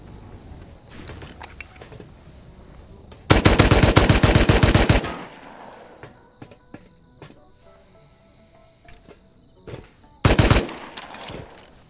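Bursts of LMG fire in the survival game Rust: one long, loud sustained volley, scattered single shots, then another shorter rapid burst, all close and sharp.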